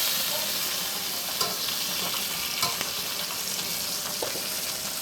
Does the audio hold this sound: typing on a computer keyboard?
no